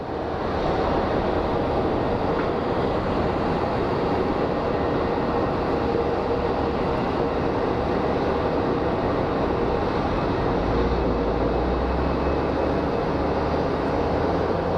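Roar of an American Airlines Boeing 737 arriving at Phoenix Sky Harbor from San Antonio, a steady broadband jet rumble held loud throughout, with deeper low-end swelling near the end as the plane passes close.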